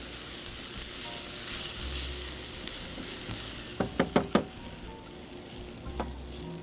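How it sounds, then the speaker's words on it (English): Red onions and farro sizzle steadily in a hot pan at close range, with a quick burst of four sharp utensil taps against the pan partway through and another tap near the end, with no talk. "I'm going to disturb it right now to put the red onions in with the farro"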